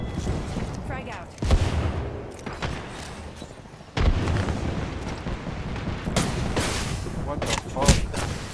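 A grenade blast in a first-person shooter game with rechargeable shields, heard as several loud booming bursts amid ongoing gunfire-like noise, with a voice speaking over the action.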